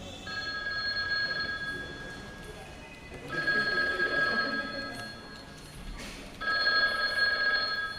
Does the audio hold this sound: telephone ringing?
yes